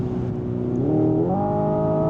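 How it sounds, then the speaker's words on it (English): A Hyundai IONIQ 5 N electric car plays a simulated combustion engine sound through a downshift, the synthetic engine note stepping up in pitch in two stages, loud and close, with no voices. "Shifts down. That doesn't sound too great. There's that little kick, and then the pops and bangs in the back."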